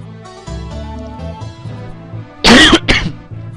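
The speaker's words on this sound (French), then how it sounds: "je vais peut-être tousser parce que je suis encore un peu malade" Two sharp, loud coughs from a person who is still a bit ill, bursting out close to the microphone over the quiet music of the PS1 game Alundra.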